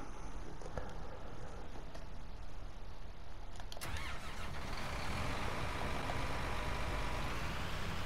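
Steady mid-pitched engine drone of a truck driving on the Przemasowo map in Farming Simulator 19, swelling louder and rougher partway through as it pulls away, with no voices.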